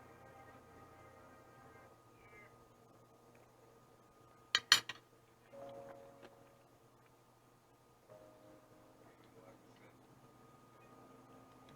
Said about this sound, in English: I'm going to go ahead and cut into it